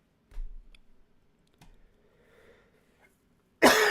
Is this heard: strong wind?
no